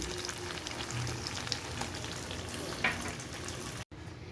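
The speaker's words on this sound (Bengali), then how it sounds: "ভালোভাবে ভেজে নেব।" Kala bhuna, Chattogram-style beef in a spice mix, fries steadily in a pan with a dense, even sizzle, close and continuous, broken only by a brief dropout near the end.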